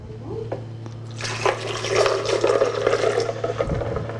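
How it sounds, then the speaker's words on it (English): Water and ice pour into a blender jar, a rushing, splashing fill lasting a few seconds over a steady low hum. "The ice and the water, get our liquids in there."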